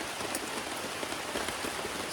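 Heavy rain pours down at a campsite on a long-distance hiking trail, a dense, steady hiss of drops drumming on a nearby surface for the whole stretch, with no voices.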